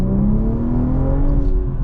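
A BMW M440i coupe with a B58 engine pulls away from a green light in comfort mode. The engine tone climbs smoothly and steadily, loud and close from inside the cabin, with no talking.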